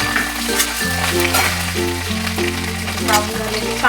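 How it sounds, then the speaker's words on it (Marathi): Garlic, ginger and green chili fry in a pan, giving a steady loud sizzle with a constant low hum underneath and no talking. "लसूण टाकूया 1 चम्मच. नंतर अद्रक टाकूया. नंतर हिरवी मिरची टाकूया."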